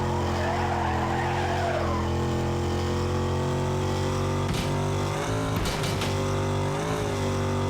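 Need for Speed Carbon race car drifting through a corner in Fortuna with long tire squeal over a steady, loud engine drone, ending in a few sharp bursts of skidding near the end.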